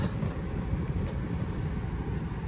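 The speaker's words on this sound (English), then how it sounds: "So we're driving back into the storage lot." An old work truck with a cracked windshield drives into a storage lot, giving a continuous low engine and road rumble heard from inside the cab.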